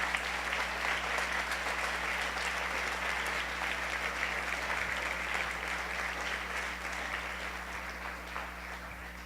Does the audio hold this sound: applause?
yes